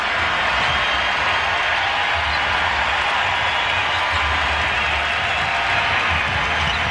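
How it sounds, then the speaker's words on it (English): A home arena crowd roars steadily for the 76ers during an NBA game against the Wizards, with dense, continuous cheering and applause filling the space and no voices standing out. "Crowd up for their 76ers."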